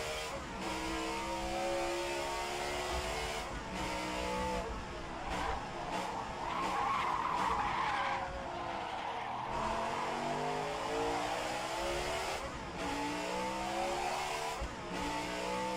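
A race car in a sim racing video game skids and slides from overdriving, tires squealing over a continuous engine drone that revs up and down across the stretch.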